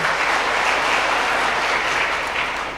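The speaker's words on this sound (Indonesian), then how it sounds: "Kita tepuk tangan buat Mama Diana." Church congregation at a GMIT Galed Kelapa Lima culture month closing service gives a full, steady round of applause, sustained and even before tapering slightly at the end.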